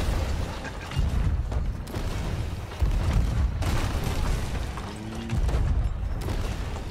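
Ship cannon fire in Sea of Thieves: several deep, booming shots at irregular intervals over a continuous low rumble of sea and wind, heavy and fairly loud, with no talking.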